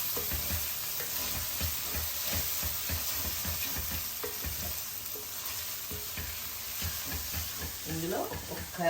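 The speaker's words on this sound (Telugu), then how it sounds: "ఇప్పుడు పుదీనా వేసేస్తున్నా అండి" Mint leaves fry in a pan of mutton liver gongura gravy, giving a steady close sizzle with scraping stirs throughout and no voices.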